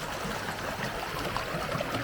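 Clear, cold stream water near a hidden waterfall in Kotehra village, Pakistan, rushes in a steady, dense wash that fills the whole clip with no voices.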